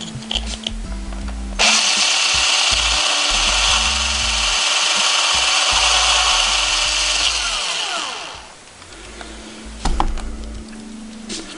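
A power drill whines loudly into wood for several seconds, its pitch sagging as it winds down, with handling knocks before and after.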